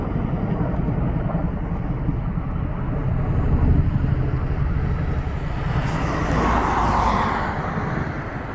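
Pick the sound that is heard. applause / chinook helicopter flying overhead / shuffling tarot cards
chinook helicopter flying overhead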